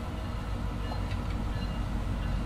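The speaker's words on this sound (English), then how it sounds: "Hey, there's a train." A train rumbles past outside, a steady low, heavy roar with faint high squeals, constant and fairly close throughout, with no voices.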